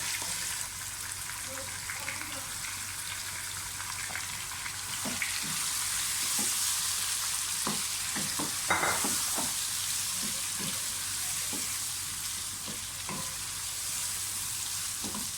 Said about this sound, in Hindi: चिकन की अच्छी तरह से भुनाई कर लें